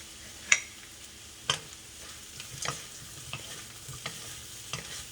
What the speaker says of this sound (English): And then we add the shrimp in.